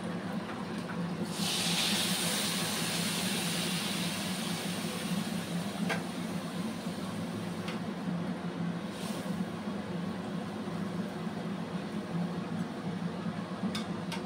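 Water poured into a hot pan for Maggi noodles sets off a loud hiss that starts suddenly, then settles into a steady steamy rush with faint clicks for the rest of the stretch.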